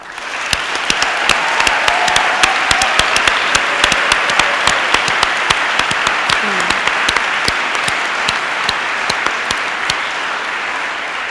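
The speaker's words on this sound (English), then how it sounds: "So there's a lot of clapping going on" A graduation ceremony audience breaks into loud, dense, steady applause, with many hands clapping continuously and a few sharper claps standing out. The clapping runs evenly from start to finish.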